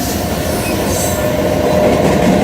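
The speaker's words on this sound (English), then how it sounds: "JMB train is moving." A long cargo train rolling past, loud and close, with a heavy continuous rumble, clattering wheels and a rising metallic squeal as the cars move along the track.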